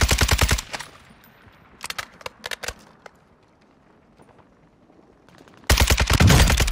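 In a shooter video game, a Fennec submachine gun fires loud, close automatic bursts at the start and end, with scattered single shots and short bursts in the quieter stretch between them. No one speaks.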